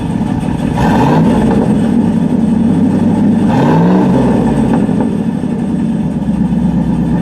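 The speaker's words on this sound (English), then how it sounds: "Go ahead, give it a little rev." A white 1961 Buick Invicta convertible's engine idles with a steady low rumble, then revs up twice in quick rising-and-falling surges, loud and close.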